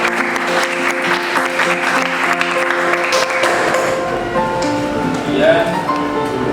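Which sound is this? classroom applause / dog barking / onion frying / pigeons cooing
classroom applause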